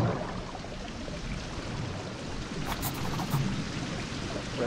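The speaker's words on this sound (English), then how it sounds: "I can hear the rain underwater, that's not right" Steady rain hiss heard from underwater in a survival video game, a continuous broadband wash with faint patter and a brief brighter swell midway, no voices.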